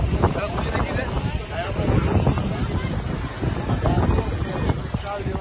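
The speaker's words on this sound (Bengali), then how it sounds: "এখন আমরা সমুদ্রের সামনে বসে আছি" Wind buffets the microphone while sea waves wash and rumble at Digha beach, a constant rough roar with voices murmuring faintly underneath.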